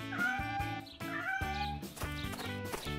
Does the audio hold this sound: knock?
no